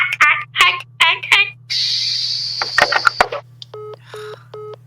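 A telephone gives a short burst of tones and noise, then three evenly spaced, clear dialing beeps near the end, all loud and close over a low steady hum.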